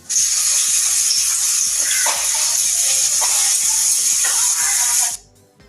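Onions sizzle and fry in a pan, a loud, steady hiss that runs for about five seconds and then cuts off abruptly, with faint rhythmic ticking and a few soft utensil clinks beneath.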